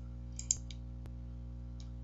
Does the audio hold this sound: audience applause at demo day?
no